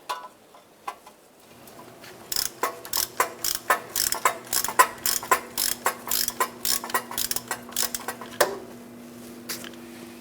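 A ratchet clicks rapidly while the upper exhaust manifold bracket bolt on a 2007-2012 Nissan Versa is loosened, with close, loud, evenly spaced metallic clicks in several bursts and a faint steady hum underneath.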